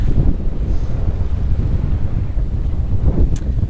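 Wind buffeting the microphone while sailing a boat in the Grenadines, a loud, continuous low rumbling roar with gusty fluctuations and faint water sounds, no voices.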